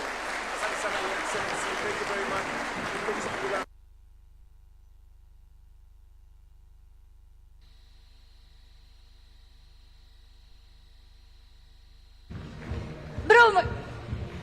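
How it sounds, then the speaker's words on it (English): Applause at a film awards night held at KICC, a dense roar of clapping for a few seconds that cuts abruptly to near silence, then a burst of noise and movement returns at the end. "Please, one more time, please, a round of applause for His Excellency, the President."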